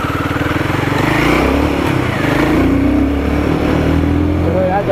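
A Royal Enfield Guerrilla 450 motorcycle engine rumbles and pulses while riding on a road, loud and close, with someone talking over the steady engine note.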